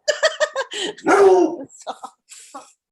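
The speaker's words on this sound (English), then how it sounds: "My dog's going nuts." A dog barks sharply several times close by, one longer yelping bark in the middle, with brief gaps of silence between.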